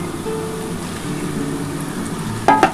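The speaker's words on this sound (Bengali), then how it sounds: "দেখো পেঁয়াজটা কিন্তু আমার ভাজা হয়ে গেছে। এবার এই যে মাখানো আছে আর মাছটা দিয়ে দিলাম।" Marinated fish dropped into a pan of fried onions, giving a steady broadband sizzle throughout with a brief louder clatter near the end.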